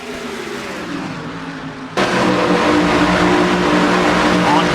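Race car engines in a NASCAR-style racing video game at Auto Club, a steady loud engine roar that jumps louder about two seconds in, with a commentator talking faintly.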